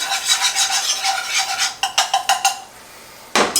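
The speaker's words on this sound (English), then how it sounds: "Give this a good stir." Turkey bones and giblets browning in a pot are stirred with a utensil, close scraping strokes in a quick rhythm over a faint sizzle, then a few sharper knocks against the pot.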